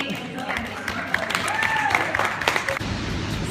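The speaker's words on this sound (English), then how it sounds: "Round of applause for everyone for coming tonight." At an evening gathering, guests clap for everyone who came, a moderate spatter of applause mixed with a few cheers and whoops while people talk over it, fading near the end.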